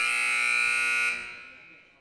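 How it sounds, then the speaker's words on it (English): A long electronic buzzer sounds to end the first half of a Lady Eagles women's basketball game against MJCA. The tone holds loud and steady for about a second, then fades away into gym ambience. "Here comes the buzzer in a couple of seconds"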